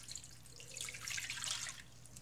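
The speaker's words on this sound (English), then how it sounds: "you're going to want to add water halfway up your meat" Water trickles and splashes faintly into a slow cooker holding a cow tongue, a soft, close pour lasting a couple of seconds over a low background hum.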